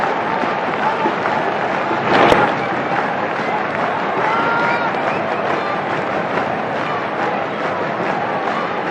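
Evening crowd at Sher-e-Bangla National Stadium during a 2023 Bangladesh versus England one-day cricket international, a dense, continuous roar from a distance with a brief louder swell partway through.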